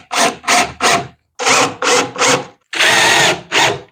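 A power drill drives screws into a wooden miter saw bench, three short whirring bursts, a pause, three more, then a longer sustained run, loud and close with no speech.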